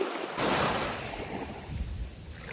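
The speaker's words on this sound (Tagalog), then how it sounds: "Yung hampas ng alon guys, nakakaaliw." Ocean waves wash against an island shoreline in a broad, continuous rush, with a louder surge near the start and wind buffeting the microphone.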